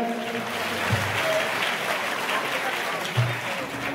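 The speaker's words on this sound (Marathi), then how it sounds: "श्रीपंच दर्शनाम जुना आखाड्यातील सर्व साधू संतांचे एका टाळी वाजवून स्वागत करायचं" Applause from a crowd welcoming the sadhus of Juna Akhada at a religious celebration, a steady wash of clapping lasting throughout, with crowd murmur and brief thuds underneath.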